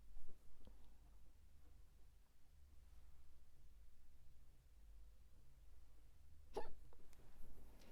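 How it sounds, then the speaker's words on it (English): A person's hiccup bursts out faintly in a quiet room, with a second small catch earlier on, over a low steady background hum. "As I have the hiccups now, it's annoying me"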